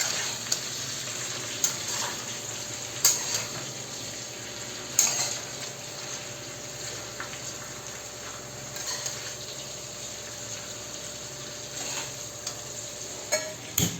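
Vegetables frying in a pan with no spices added, a steady soft sizzle with occasional stirring clicks and clinks against the pan, close and continuous.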